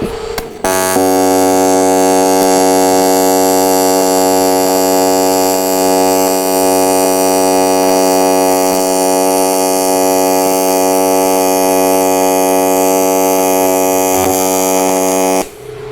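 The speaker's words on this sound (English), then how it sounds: "So 225 amps, that ought to work on that 1/4 inch plate. So let me get my helmet, my gear, and we'll go to the bench and fire it up." AHP AlphaTIG 225Xi TIG welder running at 225 amps on quarter-inch steel plate, a loud steady electrical hum and buzz with strong tonal harmonics, starting abruptly and holding for about fifteen seconds before cutting off.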